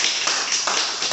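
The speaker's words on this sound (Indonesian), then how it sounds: "Tepuk tangan dulu untuk Anda semua." Audience applause at a cryptocurrency seminar on the NAGAYA asset: a brief, fairly quiet wash of many hands clapping steadily, with no voices over it.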